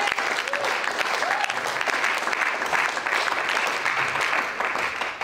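A church congregation applauds steadily and loudly, a dense continuous clatter of many hands filling the space, with faint voices mixed underneath.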